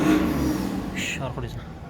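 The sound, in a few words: BMW 730d M Sport turbo engine revving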